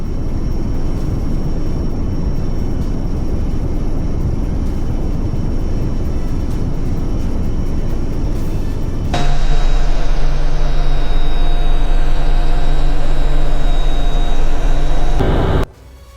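A formation of six Rafale fighter jets in a Republic Day Parade 2026 flypast produces a loud, continuous rumbling roar that shifts to a steadier, tonal hum partway through, then cuts off abruptly near the end.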